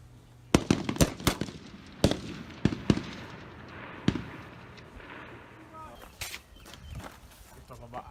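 M16 rifle shots at an army firing range, a quick run of sharp cracks early on and then a few spaced single shots, fairly close and loud, with people talking in the background between reports.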